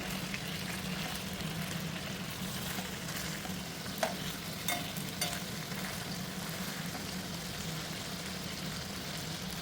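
Chicken frying in a pan over high heat for homemade grill chicken fry, giving a steady, dense sizzle that holds evenly throughout, with a couple of faint clicks partway through and no voices.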